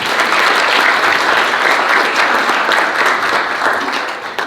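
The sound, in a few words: audience applause for sponsor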